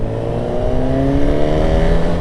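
A 2025 Honda CB1000 Hornet SP inline-four motorcycle engine revs loud and close, holding a steady, smooth drone with clear harmonic layers and no talk over it.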